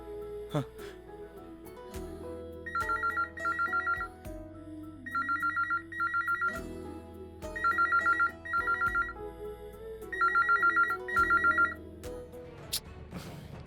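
An outgoing phone call rings back in four clear double-pulse bursts at a steady rhythm, each pair followed by a pause, with low room noise between them.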